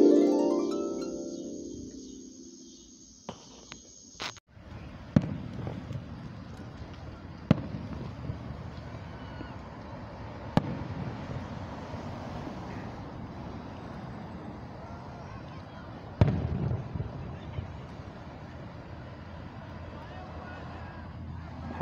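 Fireworks pop and boom outdoors on the Fourth of July, a handful of separate sharp bursts at a distance, after a fading harp note at the start.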